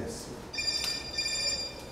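A telephone ringing in a home in Guatemala, a single electronic ring tone sounding briefly at moderate distance under a low background hum, with no voices.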